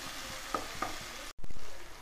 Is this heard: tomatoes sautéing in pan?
yes